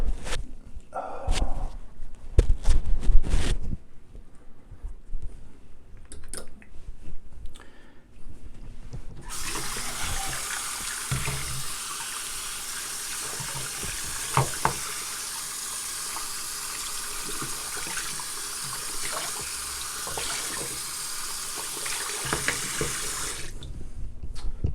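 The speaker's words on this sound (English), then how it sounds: "Rinse that soap tub out just a little bit." A shaving soap tub is rinsed under a running tap: after some handling clatter and footsteps, a steady, close rush of water from the faucet flows for about fifteen seconds before it shuts off.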